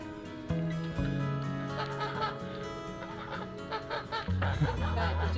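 Several geese honk and cackle close by, their calls overlapping in bursts of chatter.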